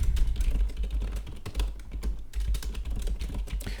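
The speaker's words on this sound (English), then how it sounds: "I'm typing this at the same time." Steady, fast typing on a computer keyboard, close and fairly loud, with irregular key clicks over a low hum and no talk.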